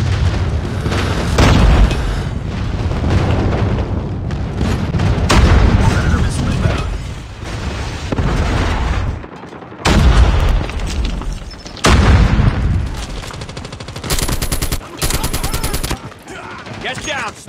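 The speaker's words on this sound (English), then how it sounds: "Friendly airstrike incoming." Call of Duty Mobile multiplayer on the Shipment 1944 map erupts in loud airstrike booms and rapid bursts of gunfire, with blasts in quick succession and short gaps, and voices call out over the battle.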